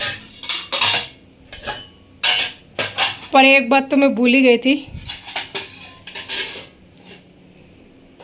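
Metal utensils, pots and dishes clattering and scraping while being washed by hand in a home kitchen, intermittent clinks and rattles near the mic, mixed with someone talking.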